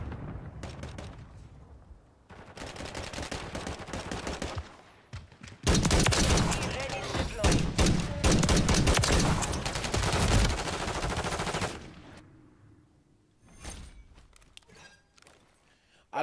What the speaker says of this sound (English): I like these kind of guns, these marksman rifles